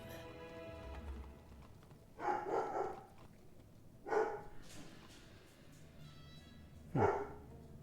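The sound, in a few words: dog moving and barking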